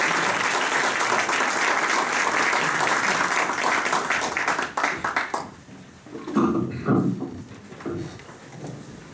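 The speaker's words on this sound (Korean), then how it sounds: "박수 한번 부탁드리겠습니다." Audience applause at a church talk on marriage and communication, a dense, loud wash of clapping that holds steady for about five seconds, then thins into scattered claps before fading out.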